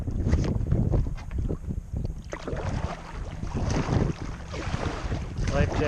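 Wind gusts and choppy lake water slap around a kayak on a breezy day, with continuous rough buffeting and splashing close to the microphone.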